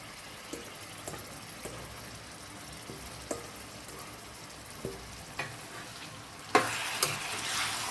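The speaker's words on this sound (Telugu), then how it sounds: "ముక్కలు, ఉల్లిపాయ ముక్కలు, చికెన్ ముక్కలు ఫ్రై అయిపోతూ ఉంటుంది" Chicken pieces and onion slices fry quietly in a pan, with a soft sizzle and occasional light stirring clicks before a louder hiss swells near the end.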